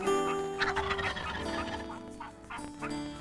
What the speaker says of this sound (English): The gobble of the wild turkey is heard on ridges and in valleys